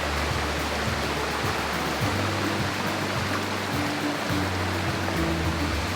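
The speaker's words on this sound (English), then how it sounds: "the waterfall is just right next to the road" Ravana waterfall in Ella, Sri Lanka, right beside the road, pours in a constant, dense roar of rushing water, loud and unbroken throughout.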